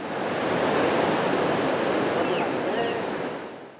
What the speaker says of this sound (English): The sound of crashing waves and children playing along the Tijuana coastline looks like a normal day at the beach.